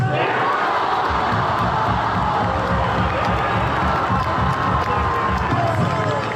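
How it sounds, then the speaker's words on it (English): A big football stadium crowd roars and cheers, a constant dense mass of shouting voices and whoops at steady loudness throughout, with no single voice standing out. "listen to that crowd"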